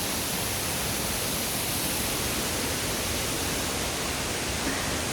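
Las Golondrinas waterfall in the Lacandon jungle gives a constant, dense roar of rushing water, steady and unbroken throughout, with no voices.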